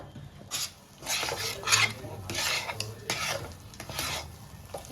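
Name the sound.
stirring cooked lentil paste in a pan with a ladle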